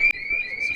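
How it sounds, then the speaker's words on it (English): Continuous electronic alarm beeping at a restaurant dinner in Tallinn, Estonia, a single steady high-pitched tone sounding loud and unbroken. "So it's a few minutes later, alarm's still going off."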